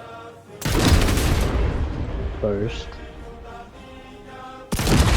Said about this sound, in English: let's see how many large cannon shots it can take